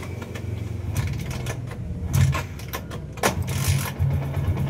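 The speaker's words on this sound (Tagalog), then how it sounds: "Siyempre, papaandarin natin to sa kick." A Yamaha Sniper 150 motorcycle with an Error 46 fault idles close by after a kick start, its steady low engine note running throughout with a few sharp metallic clicks and rattles over it.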